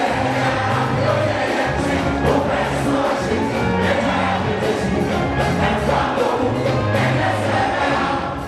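Excited crowd at a concert, loud and sustained, with dense voices and cheering mixed under music throughout.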